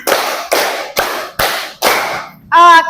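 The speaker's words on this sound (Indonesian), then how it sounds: "tepuk 5." Five sharp group hand claps ring out in an even beat during a counted classroom clapping drill, each crisp and close, with a brief spoken word right after the last.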